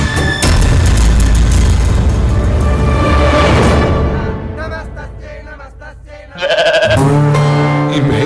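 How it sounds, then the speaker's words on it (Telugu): A goat on a film soundtrack lets out loud, wavering bleats, first over busy background sound and then again near the end after a brief quieter stretch. "ఈ మేక మనల్ని తగులుకుందేంట్రా?"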